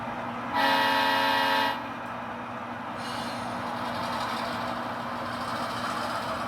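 A locomotive shoves rail cars to make a join, a steady heavy rumble of the train throughout, with a loud sustained horn blast near the start lasting about a second, close and alone without talk.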